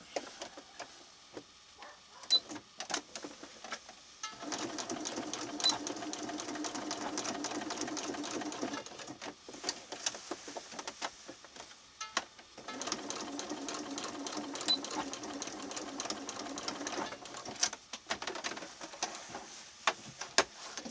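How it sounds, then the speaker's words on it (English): A sewing machine stitching a folded fabric seam for a stuffed Scotty dog toy, running in two sustained bursts of rapid rhythmic clatter separated by brief quiet pauses with faint handling noises, close and moderately loud. "all you're going to do is just going to sew that"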